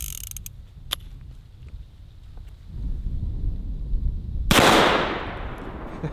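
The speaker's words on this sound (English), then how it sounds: "Super Blackhawk single action 44 Magnum, and the first bullet we have is a 240 grain lead cowboy load" A Ruger Super Blackhawk single-action .44 Magnum revolver fires one 240-grain lead cowboy load, a single sharp loud blast that booms and decays after a quiet stretch of outdoor rumble.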